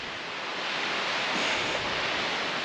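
Wind on a mountain climb near waterfalls, a steady broadband roar buffeting the microphone continuously with no talk.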